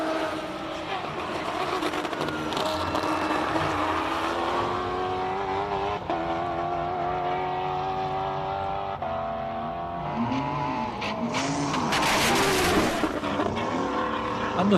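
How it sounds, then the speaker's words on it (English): A Shelby Can-Am race car runs a hillclimb course, its engine note rising and falling through gear changes over a steady roar, with commentators talking throughout. "Rui Campos at the top of your screen in the Shelby Can-Am."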